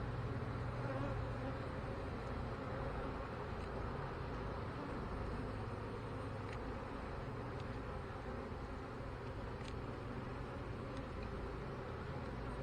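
A dense, steady buzz of many honeybees around an open hive during a spring inspection fills the air continuously, close and even, with no voices.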